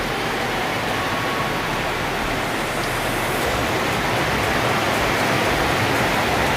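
Heavy rain pours down steadily in Camarines Norte, a loud, dense and unbroken hiss that continues without a break.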